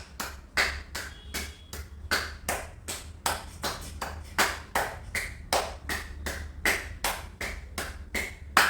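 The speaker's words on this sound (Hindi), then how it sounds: "पचास ढोलक ताली लगाएंगे।" Rhythmic hand clapping during a yoga routine, about two crisp claps per second in a steady repeating pattern, close and clear with no talking.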